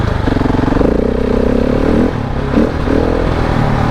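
A KTM 690 enduro motorcycle rides off-road over bumps on a trail, its single-cylinder engine a loud, close, throbbing drone that dips briefly mid-clip and picks up again, with rattles and jolts.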